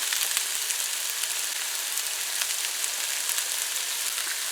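Chicken fried rice sizzling steadily in a hot pan after fried rice seasoning goes in, a dense, even crackling hiss with faint scattered pops, close and continuous with no talking.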